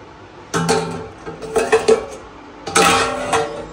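A pot of boiling pasta water is lifted from the stove, giving a few loud clanks and metallic knocks in short bursts, then a pause and another clatter, with no talking.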